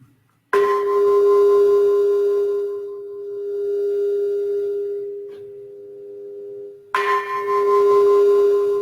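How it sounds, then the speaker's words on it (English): A bell rings out twice, each strike a clear sustained ringing tone that hangs and slowly fades, the second stroke arriving about six seconds after the first, loud and alone. "The beautiful sound of the bell."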